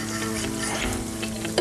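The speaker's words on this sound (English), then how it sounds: "frying up" Food fries in a hot pan at around 350 degrees, a steady close sizzle with stirring noises running through it.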